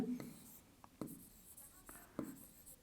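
Chalk or a marker writes on a board during a Class 10 maths lesson on triangles, with a few short, distinct taps and strokes at about one-second intervals, close and faint amid quiet speech.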